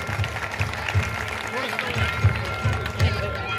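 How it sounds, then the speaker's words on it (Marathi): An audience at a Chhatrapati Shivaji Maharaj Jayanti gathering in Alani claps together, honouring people newly recruited to government service. The applause is a steady patter heard beneath a person speaking. "पुढील शिक्षणासाठी टाळ्या वाजवू आपण"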